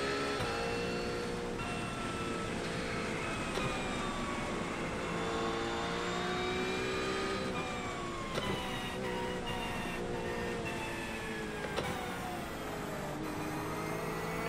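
Porsche GT3 race car engine in a racing video game at the Algarve International Circuit, a steady high-revving drone rising and falling through gear changes, with sharp clicks of upshifts and nearby cars mixed in.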